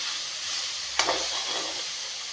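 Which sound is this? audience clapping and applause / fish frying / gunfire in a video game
fish frying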